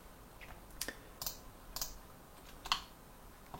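Keystrokes on a computer keyboard while entering a dimension in SketchUp, a handful of sharp, separate clicks spaced irregularly, close and fairly quiet against a still background.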